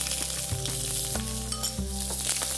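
Small chicken pieces and corn frying in a pan with curry leaves for a non-veg soup, giving a loud, dense sizzle with a few stirring knocks and a steady tonal hum underneath, no talk.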